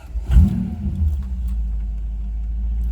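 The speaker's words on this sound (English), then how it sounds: "We'll just fire it up, have a listen" A Toyota Hilux pickup with a 1UZ V8 engine swap fires up with a short loud burst, then settles into a steady, deep idle rumble, close by with no talking.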